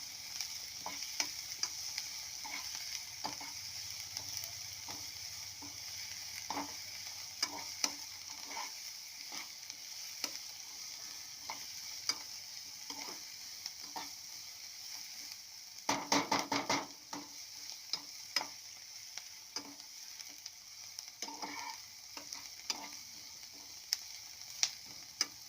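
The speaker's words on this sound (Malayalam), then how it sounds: "സവാള നല്ലപോലെ വഴറ്റി അതിൻ്റെ പച്ചമണം എല്ലാം പോകുന്നത് വരെ വഴറ്റണം." Onions sautéing in a pan while being stirred: a quiet, steady sizzle with frequent light scraping taps from a utensil, including a brief flurry of rapid stirring midway, close and without talk.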